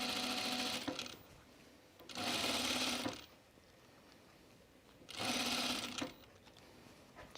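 A sewing machine stitches plaid fabric in three roughly one-second bursts of steady whirring, close and clear, with quiet pauses between runs.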